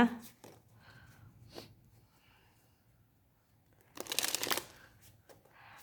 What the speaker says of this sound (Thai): ขอเป็นตัวแทนเปิดไพ่ให้กับคุณนะคะ